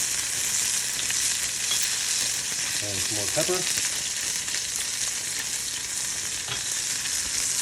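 A halibut fillet searing in a hot pan, a loud constant sizzle and hiss, with someone briefly speaking over it midway.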